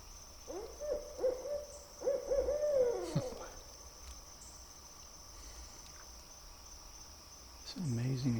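Small animals trade faint high calls and hoots in a quiet night setting, with a steady insect drone running underneath throughout.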